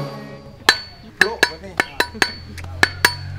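Sharp metallic taps driving a tool into a coconut between its eyes: about nine crisp, irregular knocks within a few seconds, close and clear over faint background hum.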